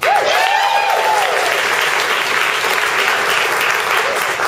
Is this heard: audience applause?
yes